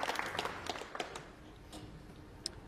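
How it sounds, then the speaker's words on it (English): A crowd at a 2014 World Cup of Pool semi-final between Finland and England applauds a shot. The clapping is dense at first, then thins out and fades to scattered claps. "Crowd appreciates it."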